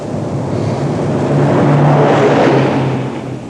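A pickup truck brakes hard from 60 mph to a stop during a hot brake test on a test track; a steady broad roar of tires and wind swells toward the middle and eases off near the end, with faint tonal whine, no talk.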